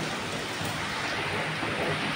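Heavy rain pours down during a storm, a dense, even hiss of drops beating on surfaces close by, continuous and loud throughout with no voices.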